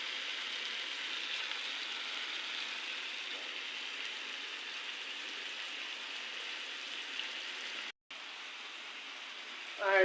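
Fish gently frying in spice paste in a home-kitchen pan give off a steady, even sizzle that runs close and continuous, with a brief drop near the end and a short clatter just after.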